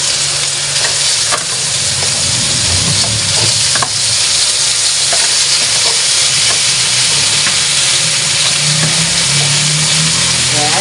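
Fried chicken with garlic and onion sizzles loudly in a hot pan for a Filipino chopsuey, with steady frying hiss and occasional scraping of a spoon as it is stirred.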